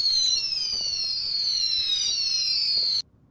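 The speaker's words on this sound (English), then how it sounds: "Fireworks," Fireworks effect from an Aputure MC RGB light's fireworks mode: a high whistling rocket whine sustained for about three seconds with faint pops beneath, then an abrupt cut to near silence.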